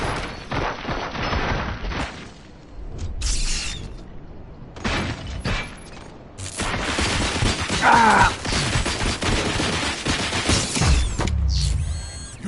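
Weapon fire and mechanical clatter from a gunfight in RoboCop: Rogue City, with dense bursts of shots, impacts and crashes coming in waves over the whole stretch, loud and close, with no talk.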